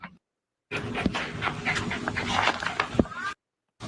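An excited dog pants rapidly and whimpers up close, with a few sharp yips and whines over a continuous breathy rhythm, set between short silent gaps.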